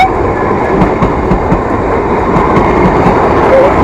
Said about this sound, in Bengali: যা ট্রেন চলে গেল